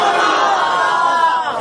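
A large crowd shouts a slogan in unison, a loud, sustained massed roar of voices at a religious gathering in an officers' colony in Lahore cantonment, lasting about a second and a half.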